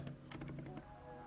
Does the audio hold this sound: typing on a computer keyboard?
yes